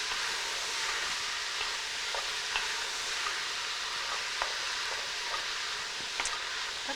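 Mushroom stew sizzles steadily in a pan while a spoon stirs it, with a constant close frying hiss and faint scattered clicks of the utensil.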